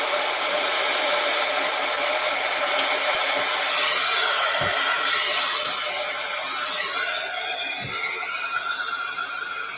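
A hair dryer blows steadily on wet watercolor paint, a loud continuous whooshing rush that stays close throughout with only slight shifts as it moves over the paper.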